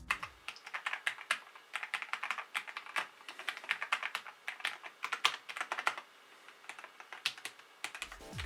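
Rapid typing on a HATOR Icefall Pro Wireless mechanical keyboard, crisp clacky keystrokes in steady bursts with brief pauses, close up and alone.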